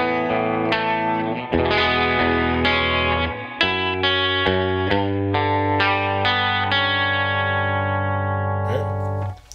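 Electric guitar plays a chord solo arrangement of a song, ringing chords struck one after another with sustained overlapping notes and a light effects shimmer, played alone until a quick fade at the end.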